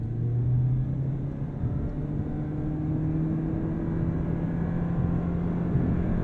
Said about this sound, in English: I'll hold my foot hard on the brake, hit the throttle, get a little brake boost,